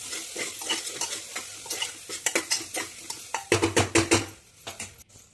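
Masala rice stirred in a pot, a spoon scraping and clinking against the metal in uneven bursts over a soft sizzle, close and fairly quiet, with no voice.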